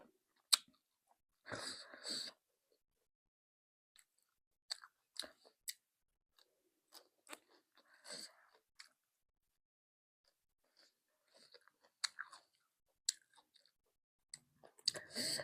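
Soft, close chewing and crunching of dried Renu Nakhon rice noodles eaten with papaya salad, heard in short separate bites with quiet pauses between them.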